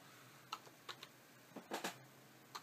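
Scattered keystrokes on a computer keyboard while entering an internet speed test search, a few isolated taps then a quick cluster, faint and close with a low steady background hum.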